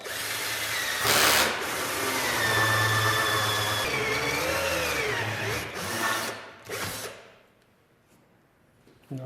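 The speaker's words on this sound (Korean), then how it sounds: "그걸 위한 구멍을 낼 때 사용하는 것이 홀쏘가 되겠습니다." A battery-powered hole saw bores a hole through an electrical panel enclosure, whirring loudly with a steady grinding drone and brief higher-pitched bursts, then winding down as the battery fades.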